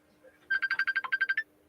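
An incoming-call ringtone from a phone: a quick run of about a dozen bright, evenly spaced electronic tones, close and clear against a quiet room.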